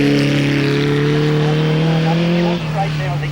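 A historic racing car sits on the start line at the Collingrove hillclimb during the 1994 Australian Hillclimb Championships, its engine holding a loud steady idle and drone that drops in pitch near the end, with a commentator talking over it.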